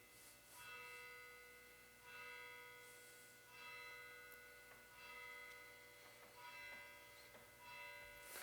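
A church bell tolls in slow, evenly spaced strokes, each ringing out and fading, fairly faint and distant with no talk over it.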